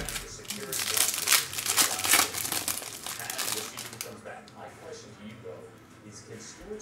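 Foil pack of 2019 Prizm football hobby trading cards torn open, a loud crinkling rip lasting a few seconds that settles into softer handling rustles, with someone talking throughout.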